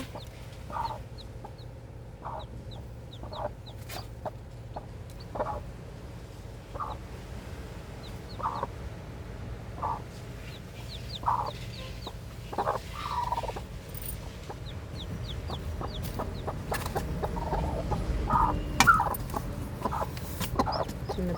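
Chickens cluck softly and repeatedly while chicks peep in thin, high chirps, fairly faint over a steady low hum.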